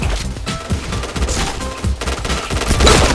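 Sustained gunfire from the shooter game Point Blank, with loud overlapping volleys of rapid shots crackling almost without pause throughout.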